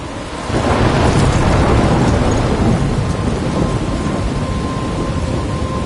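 A thunderstorm in Life is Strange opens with a loud rolling crack of thunder over heavy rain, then settles into a dense, steady downpour with the rumble slowly easing.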